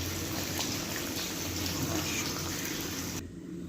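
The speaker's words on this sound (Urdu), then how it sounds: "اب ہم اوپر سے اس میں پانی ایڈ کر دیں گے۔" Water poured into a pot of fried chicken feet curry: a steady, loud gushing rush that runs continuously and then cuts off near the end, with no talking.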